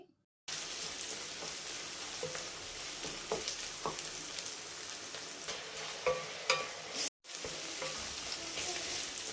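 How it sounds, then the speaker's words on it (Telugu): Onions fry with turmeric and salt in a pan for a fish curry, a steady close crackling sizzle with occasional spoon stirs and scrapes, no speech. "ఉల్లిపాయలు బాగా వేయించుకోవాలండి"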